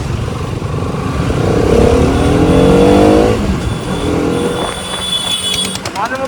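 KTM Adventure 390 motorcycle engine revving hard and steady while overtaking traffic on the road, loud and close throughout, with other vehicles passing and a horn-like tone near the end.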